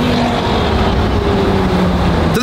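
A twin-turbo Lamborghini Huracan STO race car running on race fuel, engine roaring loud and steady with rising tones as it accelerates, heard alone without talk.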